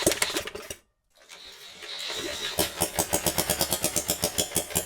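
A 3D printed gas engine runs with loud, rapid chugging firing pulses, cuts out briefly into near silence, then fires back up and settles into a steady, rhythmic putter.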